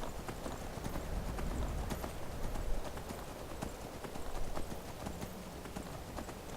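Horse hooves clip-clop steadily in Skyrim, a continuous rhythmic patter of footfalls over the game's ambient bed, with occasional louder hoof strikes.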